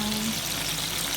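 Oil sizzles and crackles steadily close by as vinegar-marinated fish fries, with a constant frying hiss, no voices.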